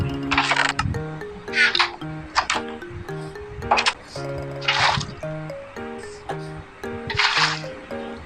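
Minecraft bucket scooping up water, several short splashy liquid bursts recurring every second or so over steady game background music, fairly close and moderately loud.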